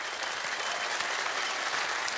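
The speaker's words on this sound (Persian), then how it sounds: "دوستای عزیز تشویق کنید" A studio audience on an Afghan television game show breaks into steady, full applause, a continuous wash of clapping with no talk over it.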